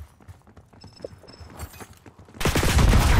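An M16 rifle fires in a video game: scattered light taps and footsteps give way to a loud, continuous burst of automatic gunfire during the final second.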